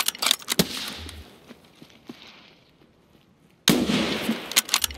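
Gunfire in the shooter game Escape From Tarkov: one sharp crack early, a quiet stretch, then a dense flurry of loud shots in quick succession near the end.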